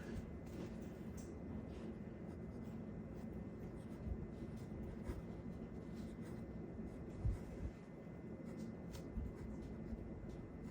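A pen writes in ink on regular notebook paper, its soft scratching strokes close and quiet against a low background hum.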